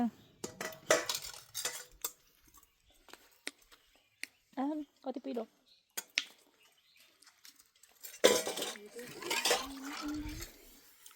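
Metal cutlery and dishes clink and scrape in short, sharp bursts while rice is served at home in Udayapur, Nepal, close and intermittent, with people talking nearby between and over the clatter.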